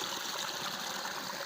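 Water pours steadily over a waterfall in a swampy village setting, producing a constant broadband rushing hiss that is fairly quiet and has no voices over it.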